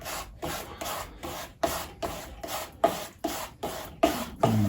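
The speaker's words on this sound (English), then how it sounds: "the noise of that brush on the canvas" A paintbrush rubs and scrubs across canvas in steady back-and-forth strokes, about ten rasping sweeps close up with short pauses between, painting a dark sky without any voices.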